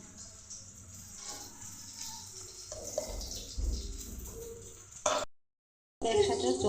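Water poured over chili powder and salt to make a spice mixture, a steady splashing wash that swells briefly, cuts out for a moment, then resumes.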